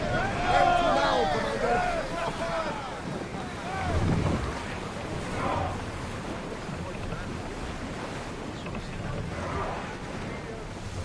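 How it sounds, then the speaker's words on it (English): A ship in Assassin's Creed Odyssey sails across open water with steady wind rush and waves washing against the hull. Creaking and gull-like cries rise early, and the scene stays fairly quiet and continuous. "Ready for sailing!"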